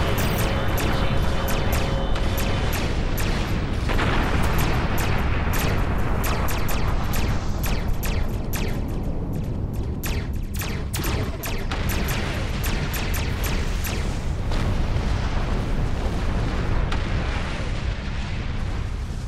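Starship torpedoes launch and burst in space combat in Star Trek Online, a long continuous barrage of booming explosions and sharp crackling impacts at steady high loudness, with no talking.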